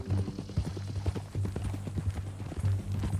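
Horse hooves clip-clopping in the Western video game Red Dead Redemption 2, a steady rhythmic series of close, moderately loud hoof strikes over a low rumbling background.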